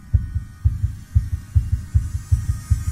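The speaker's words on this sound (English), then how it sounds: "His heartbeat begins to race." A fast heartbeat sound effect thumps in deep, muffled double beats, lub-dub pairs repeating quickly and evenly over a low steady hum, with no voices present.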